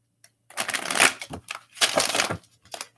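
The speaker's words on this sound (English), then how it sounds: "let's get a full shuffle on this Hermetic Tarot for the message today" Hermetic Tarot cards being shuffled by hand in a quiet room, with two long riffling bursts of papery rustling and a few short taps and flicks around them.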